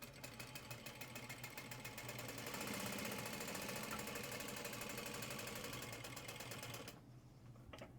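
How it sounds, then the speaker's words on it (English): Juki DU-1181N industrial walking-foot sewing machine stitching with large stitch length, a steady rapid mechanical chatter that runs continuously for about seven seconds, then stops abruptly, leaving a quieter tail. "we'll just go ahead and sew with it just pulled up how it is right now"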